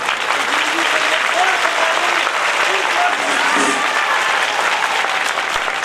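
Crowd at a religious Bhagavat program clapping loudly and steadily throughout, a thick continuous applause with scattered voices and faint cheering mixed underneath.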